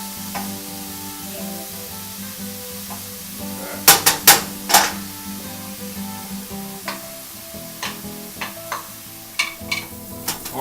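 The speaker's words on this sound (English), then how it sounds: "give it a little stir" Pancetta, garlic and onions fry in olive oil in a pan, giving a steady soft sizzle while a utensil stirs them, with a cluster of sharp scraping clinks against the pan followed by scattered lighter taps.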